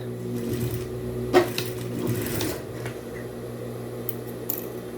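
A sewing machine runs a safety seam along the top of a fabric bag strap for a quick-made wallet, giving a steady, faint mechanical hum with a few soft clicks and taps from handling.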